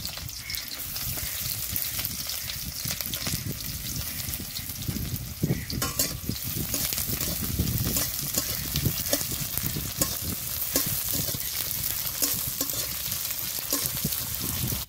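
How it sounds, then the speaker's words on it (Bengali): Chopped onions fry in hot oil in a wok, a loud, steady close-up sizzle with stirring scrapes and crackles running throughout, no talking. "এখানে 2টো পেঁয়াজ আছে, কুচি করে নিয়েছি, এখন ভেজে নেব।"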